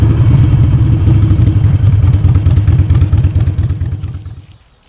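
A 2008 Harley-Davidson Sportster XL883L low V-twin rumbles close by with a steady loping idle and light clatter, then the engine cuts off and the sound fades to near silence as the bike is parked.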